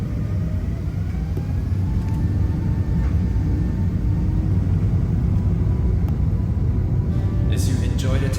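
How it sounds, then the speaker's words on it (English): Steady, loud low rumble of a Singapore Airlines Airbus A380 rolling down the runway for takeoff, on a London to Singapore flight, heard from inside the cabin as a constant roar with faint tones rising. "let's enjoy the takeoff, shall we? As we go on the runway."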